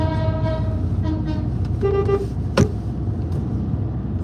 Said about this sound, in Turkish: Adamın kornası var basıyor.